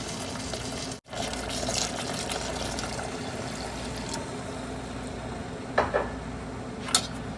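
Plain water pours steadily into a pot of coconut-milk pork belly red curry with pea eggplants, a continuous liquid rush with a brief break and a few small clinks near the end, no talking.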